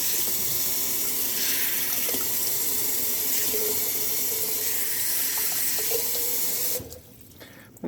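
Steady broadband hiss of a running tap being adjusted to cool the water before rinsing a betta fish bowl, continuous and close for most of the clip, then cutting off abruptly near the end.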